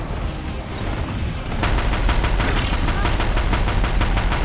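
Rapid machine gun fire rattles in the video game Horizon Zero Dawn, a dense run of sharp repeated shots that starts partway through and keeps going loud until the end.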